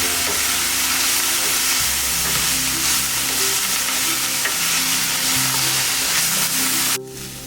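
Green leaves sauté for mutton biryani in a loud, dense sizzle and hiss with steady stirring and scraping. It runs unbroken and close, then drops off sharply near the end. Nobody speaks.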